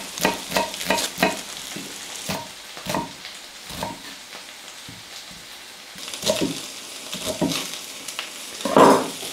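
Steady sizzling of diced waxy potatoes frying in a pan, with crackling bursts and scraping stirs throughout, close and fairly loud.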